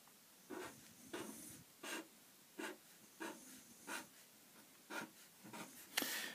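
A pen draws a broken line through plotted points on a graph, making about a dozen short, evenly spaced scratchy strokes that are faint and close, with no other sound.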